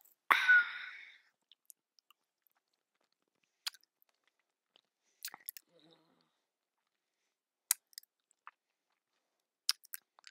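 Chewing on watermelon close to the mic in a quiet ASMR setting, one wet bite at the start followed by sparse, faint, crisp mouth clicks and munches spread through near silence.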